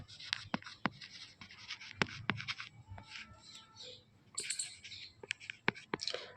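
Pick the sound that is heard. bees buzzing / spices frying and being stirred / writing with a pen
writing with a pen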